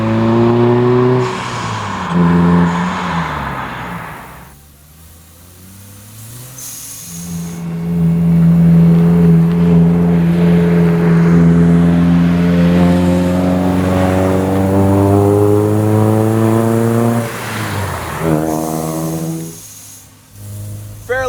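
A supercharged 2011 Toyota Tacoma truck accelerates, heard loud from inside the cabin: an initial rev and lift-off, then a long steady climb in engine pitch with supercharger whine, a brief dip, and a further pull at the end.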